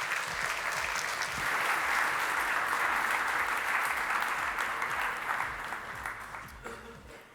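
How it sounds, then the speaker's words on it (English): An audience at a conference applauds a government minister who is being introduced, a dense, sustained wash of clapping that holds steady and then tapers off near the end. "may I have a round of applause for the Minister of Social Affairs and Public Health, Asylum and Migration, Magie de Blok."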